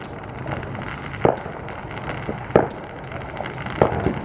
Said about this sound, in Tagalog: Look at, guys, the fireworks.